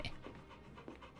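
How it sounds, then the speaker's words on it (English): A dog in the video game Final Fantasy XVI pants softly, a few faint quick breaths close by against a quiet game background. "Maybe it's Jill's dog"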